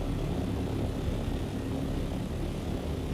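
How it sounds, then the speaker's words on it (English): Vehicle thrusters in the Dune Awakening video game, heard in the deep desert as a steady, loud engine-like roar that holds unbroken throughout. "I'm gonna put my thrusters back on."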